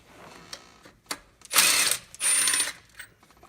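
A ratchet works loose a 15mm bolt on the 3.5L EcoBoost engine of a 2011-2016 Ford F-150 during timing set replacement, with a few light clicks followed by two quick bursts of rapid ratcheting, close and alone.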